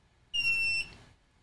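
A Gemini 2 telescope mount gives a single sustained electronic beep, a bright high tone lasting about half a second, with no voices around it.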